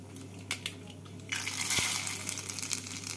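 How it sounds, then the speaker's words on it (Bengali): A dried red chili and a bay leaf drop into hot oil for tempering: a few small clicks, then a sudden bright hiss of sizzling that carries on, close by. "ফোড়নে দিচ্ছি একটা শুকনো লঙ্কা, একটা তেজপাতা"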